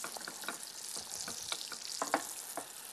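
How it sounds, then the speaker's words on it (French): Bananas roasting in melting butter in a frying pan, a soft, close sizzle with frequent light spatula scrapes and crackles, quiet and without talk. "les bananes, le beurre fond. Il faut les faire rôtir tranquillement, qu'elles prennent une belle coloration."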